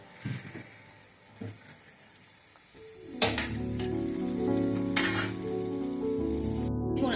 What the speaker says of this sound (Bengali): আমার পেঁয়াজটা বেরেস্তা হয়ে এসছে